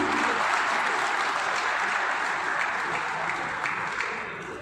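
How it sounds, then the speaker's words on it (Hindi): Loud welcoming applause from delegates at a zonal meeting of a railway staff organisation in Gorakhpur, dense, continuous clapping that stays strong throughout and then begins to fade toward the end. "जोरदार तालियों से स्वागत करना चाहता हूँ"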